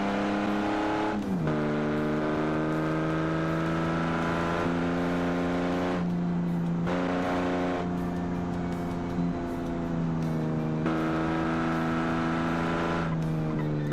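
A six-cylinder sport car engine in the Automation car-building game revs repeatedly, its rising and falling tone climbing through the range in several pulls, loud and up close.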